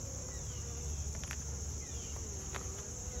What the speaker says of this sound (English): The bees are a lot more docile, a lot quieter.